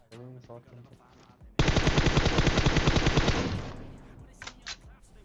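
Automatic gunfire in the battle royale game PUBG, one long loud burst of rapid shots lasting about two seconds, preceded and followed by someone talking.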